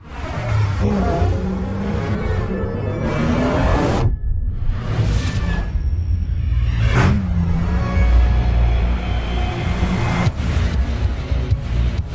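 Cars race through a movie chase scene with repeated whooshing pass-bys, rumbling engines and sudden bursts of noise, loud and dense throughout, with no voices.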